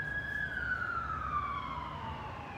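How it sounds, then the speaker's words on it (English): An outdoor siren wails in a slow, steadily falling tone, heard at moderate distance over low background rumble, with no talking. "here's the siren."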